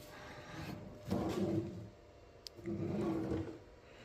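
The hidden center drawer of a wooden vanity slides open and shut twice, each pass a soft, rumbling wooden scrape lasting under a second, close by and with no one speaking.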